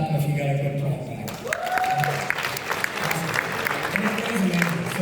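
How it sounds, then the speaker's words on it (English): An audience at a business summit session claps, with steady dense applause throughout and a voice speaking over it at the start. "give it a clap if you got a good prompt back"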